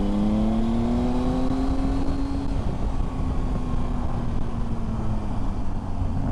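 A Triumph Tiger 800 XCa motorcycle ridden across Dartmoor, its engine holding a steady droning tone that slowly rises and falls in pitch under constant wind rush, close and continuous.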